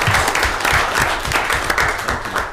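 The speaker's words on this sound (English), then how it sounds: "I'd like to give them applause too" An audience at a meeting breaks into applause, a loud, steady patter of many hands clapping nearby that carries through the whole stretch.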